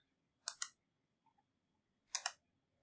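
A computer mouse gives two quick double-clicks about a second and a half apart, crisp and close in a quiet room, with a faint tick in between.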